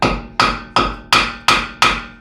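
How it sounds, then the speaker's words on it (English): A ball peen hammer taps a drive axle into place on a 2007-2014 Honda Fit during a clutch job: six sharp, evenly spaced metallic strikes, each ringing briefly before the next, close and loud with no talk. "Get a ball peen hammer and"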